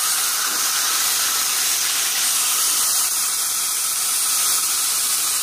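Chicken sizzling in an iron fry pan on a stove, a loud, steady, close hiss of spitting oil and steam that stays even throughout with no voices.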